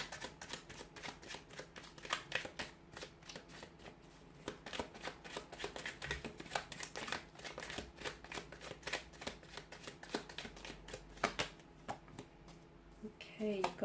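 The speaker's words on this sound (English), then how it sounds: "Okay, so we'll give the card a shuffle." Tarot and oracle cards shuffled by hand, a brisk run of close riffling and flicking bursts with short pauses, while a voice talks softly underneath.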